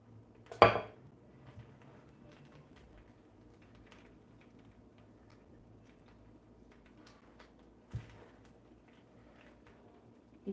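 Dishes and cutlery clatter while food is served in a home kitchen, with one sharp clink early, a softer knock later and faint scraping between, otherwise quiet with no talk.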